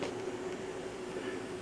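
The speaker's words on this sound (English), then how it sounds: "Running a couple trains around while I'm working on it." A Kato F7 model train in pre-Amtrak paint runs around a home layout, giving a steady, close rolling hum with a sustained tonal whine and faint rhythmic clatter throughout, with no talking.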